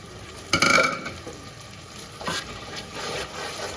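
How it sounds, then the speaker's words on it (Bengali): Spices for duck curry frying in a pan, quiet sizzling broken by two louder bursts of scraping and stirring, the first stronger, then softer stirring sounds, no talk. "ভালো করে মশলাটা কষিয়ে নিই"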